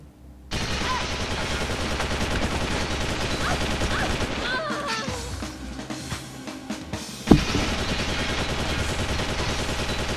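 Sustained gunfire in the video game XIII, dense bursts of shots running continuously under busy game sound, with one sharp louder blast near the end.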